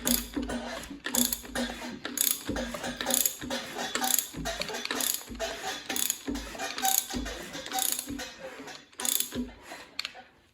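A hand ratchet turns over a Ford 302 tunnel-port engine during assembly, producing a close, steady series of rapid clicking strokes in a repeating rhythm, with no talk over it.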